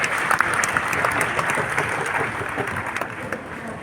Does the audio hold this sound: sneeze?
no